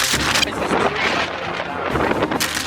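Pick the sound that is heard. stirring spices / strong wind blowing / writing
strong wind blowing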